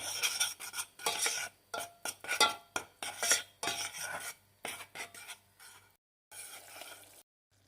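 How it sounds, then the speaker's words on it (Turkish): Two tablespoons of flour toasting in sunflower oil in a pan are stirred with a utensil in quick, rasping scraping bursts separated by brief pauses, close and clear. "Unumuzun kokusu çıkıncaya kadar biraz kavuruyoruz."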